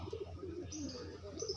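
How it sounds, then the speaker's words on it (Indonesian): Pigeon cooing during a treatment for colds, coughing and worms, low soft coos with a few chirps, close and quiet, no talk. "Nah ini merpati yang terakhir nih"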